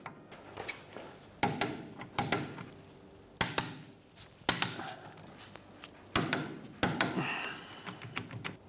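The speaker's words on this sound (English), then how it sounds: "torque them down to 70 foot-pounds. And we're going to do that in a crisscross" Torque wrench clicks while tightening lug nuts to 70 foot-pounds in a crisscross pattern on a 2007-2013 Mitsubishi Outlander rear wheel, a series of close, sharp ratcheting clicks in irregular bursts with short pauses between.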